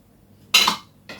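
A utensil cuts into a chilled no-bake caramel cream and jelly dessert with a short, clear clink and scrape against the dish, then a fainter second touch a moment later.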